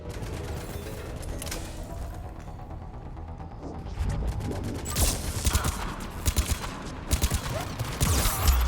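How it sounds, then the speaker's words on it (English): Repeated bursts of turret gunfire in Mass Effect 3, sharp shots cracking out in uneven volleys over a busy combat background, growing louder and denser toward the end. "Oh, I didn't see that turret there."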